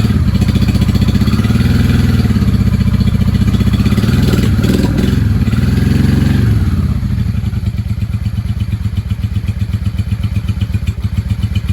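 A 1995 Honda Shadow VLX 600 V-twin runs steadily close by, a loud continuous low rumble that settles into a faster, even idle pulse partway through, with some mechanical clatter and no voices.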